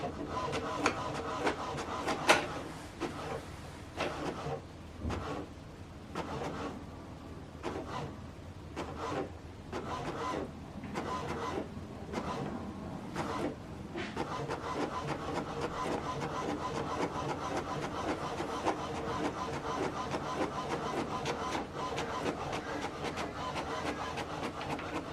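An HP DeskJet 3700-series inkjet printer runs through a double-sided print job, its carriage shuttling in rapid rhythmic passes with whirring feed motors and intermittent clicks, moderately quiet and close.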